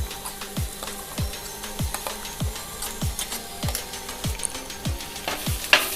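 Crushed coconut, onion and squid stir-frying in a pan for a Kerala-style squid thoran, a soft steady sizzle with regular scraping strokes of a spatula roughly every half second.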